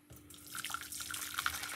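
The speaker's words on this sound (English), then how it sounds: "I'm going to pour some hot water." Hot water pours into a pot for rice pudding, a short, close, steady splashing stream that starts abruptly and runs for under two seconds without any voices.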